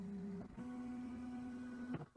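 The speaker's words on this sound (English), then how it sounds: "The printer will home." A Sidewinder X1 3D printer homing its axes, giving a quiet, steady stepper-motor whine that changes pitch as the head moves, with brief clicks near the start and end.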